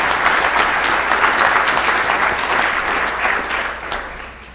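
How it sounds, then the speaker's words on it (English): Round of applause at an association's opening ceremonies and business session; loud, dense clapping from a large crowd holds steady, then tapers off toward the end. "Let's give them a round of applause for that."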